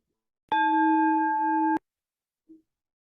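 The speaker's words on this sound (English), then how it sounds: "2 chimes today." A single sustained chime rings clearly for about a second in a quiet church service pause, then cuts off, followed by a short faint second tone, with no talk.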